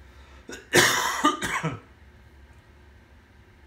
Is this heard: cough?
yes